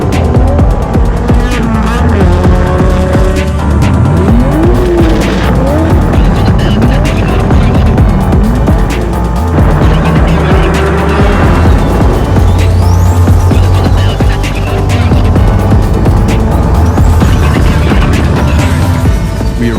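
Souped-up cars rumble and rev at a night car meetup in Tokyo, with loud, continuous engine throbbing, rising revs and tyre noise filling the whole stretch.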